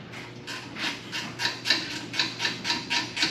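A bolt is screwed into a rib nut set in square tubing on a welding cart, heard as a close, steady series of rhythmic rasping scrapes, roughly two per second, with no one speaking.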